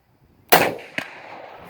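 A Yugo M48 rifle in 7.62x51, loaded with Winchester Super X soft points, fires a single sharp, loud shot that rings off into a decaying tail, followed by a fainter secondary crack or clank.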